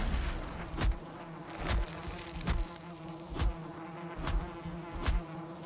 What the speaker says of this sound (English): Yeah, there's definitely bees in there.